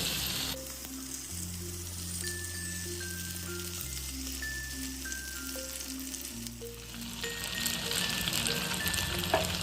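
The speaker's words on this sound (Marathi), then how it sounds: "हे सगळे कांदे या तेलामध्ये टाकते" Stuffed onions frying in hot oil give a steady close sizzle throughout, with soft background music tones layered over it and the crackle swelling louder near the end.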